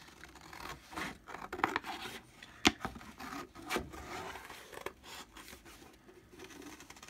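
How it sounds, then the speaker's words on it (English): Scissors snipping through greeting-card stock to cut out a paper gift tag, a run of short, quiet crisp cuts and rustles with one sharper snip midway, no talk. "now all you do is cut it out"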